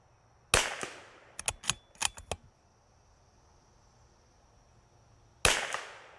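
Sharp .22LR gunshots fired through two targets using no-tip rounds: one loud crack, then a quick burst of about six snappy shots, and after a long quiet pause a final loud shot, all close to the listener with no voices.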